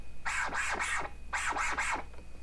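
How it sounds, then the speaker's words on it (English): Military or march scratch performed on a Pioneer Rev-1 DJ controller, Gold edition: six rhythmic scratch strokes in two groups of three, close and loud, with no talking. "And then you have a military or march scratch."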